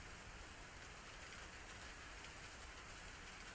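Rain falls steadily in the video game The Faceless Double, a faint, even hiss of drops on the ground with no other sound.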